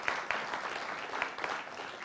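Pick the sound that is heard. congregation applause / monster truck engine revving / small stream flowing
congregation applause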